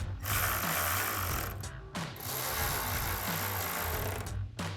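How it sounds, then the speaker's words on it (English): A ratchet tightens 10mm bolts on a Tacoma fender flare, giving loud, close clicking bursts in two long runs separated by a brief pause. "And we can tighten that down with our 10mm."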